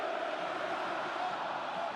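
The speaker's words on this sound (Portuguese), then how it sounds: "Vai a loucura a torcida do Grêmio" Grêmio football fans cheer in a stadium, a broad, distant-sounding crowd roar holding steady and loud throughout, with no distinct individual voices.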